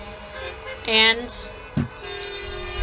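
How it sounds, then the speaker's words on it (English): Horns honk from a trucker convoy on the Beltway near Washington, DC: a loud sustained honk, then a shorter one and a long lower tone, amid traffic rumble with a voice briefly talking. "So you can hear those beautiful honks in the distance."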